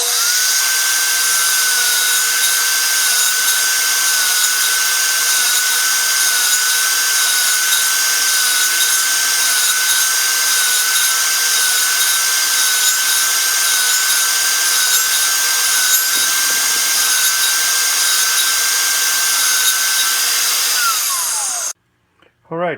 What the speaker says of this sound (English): so I'm going to take these on the table saw